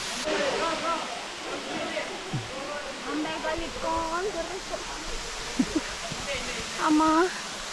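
Rushing water of Hidlumane Falls on the Kodachadri trek pours in a constant hiss nearby while several people talk over it.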